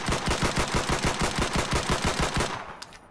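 Rapid shots from an M9A1 pistol in the Islands of Nyne battle royale game's training area, a fast, even string of loud cracks that stops abruptly, leaving a short tail.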